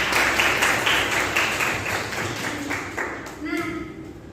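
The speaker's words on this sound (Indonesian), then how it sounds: "Tepuk tangan untuk Indrani." Students in a classroom clap for a classmate, a short burst of applause that fades as a teacher's voice comes in near the end.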